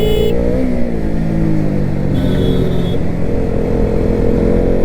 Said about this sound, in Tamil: இங்கிட்டு கார் போகுது